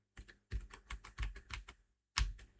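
Clacking keystrokes on a Keychron computer keyboard, close and crisp, falling in quick uneven bursts separated by short pauses, with no voices.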